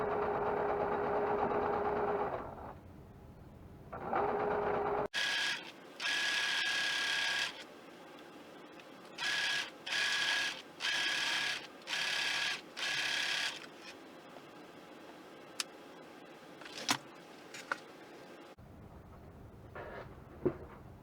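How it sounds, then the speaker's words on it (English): A sewing machine stitches together pinned patchwork pieces for a cross stitch clutch, running in several short bursts of steady mechanical whirring separated by brief pauses, close and fairly loud, with some clicks and handling noises afterward. "we'll take them back to the sewing machine"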